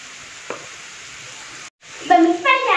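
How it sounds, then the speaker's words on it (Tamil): Onions frying in a pan for horse gram rice, a steady close sizzle broken by a brief dropout, then a louder burst of crackling as they are stirred. "வெங்காயம் பொன்னிறமா வர வரைக்கும் வறுத்துக்கலாம்."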